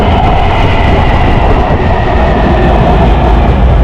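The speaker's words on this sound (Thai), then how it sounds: "ที่นี่เขาก็เรียก MRT ครับ" A Taipei MRT metro train rumbles steadily and loudly from start to end, with dense low running noise, wheel-on-rail clatter and a constant mid-range hum, heard from on board with no talk.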